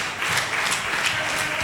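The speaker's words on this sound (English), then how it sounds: "The crowd firing up now" Wrestling crowd at a Harold Hill event cheering steadily with scattered clapping, a dense, continuous roar of many voices filling the room throughout.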